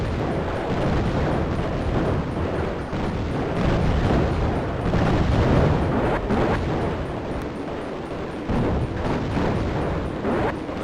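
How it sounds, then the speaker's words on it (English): A mega bomb detonates in the shoot-'em-up game Raptor: Call of the Shadows, a long rumbling roar of explosions and blasts filling the whole stretch, loud and dense. "There's our second mega bomb"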